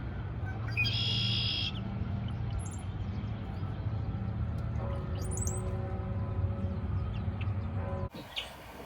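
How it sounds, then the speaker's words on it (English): Birds call in spring with bright, high chirps and sustained whistled notes, a few short bursts over a low steady background, with no talking. "The birds keep chirping, it's nonstop, but I like to listen to the chirp, chirp, chirping."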